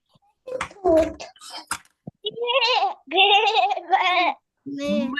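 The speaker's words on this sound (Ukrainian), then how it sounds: "Мекає козеня, правильно." A young goat bleats in short, wavering calls, several in a row, close and clear, with a person speaking briefly beforehand.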